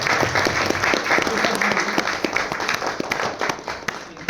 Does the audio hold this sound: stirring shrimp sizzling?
no